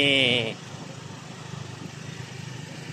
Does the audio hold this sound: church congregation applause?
no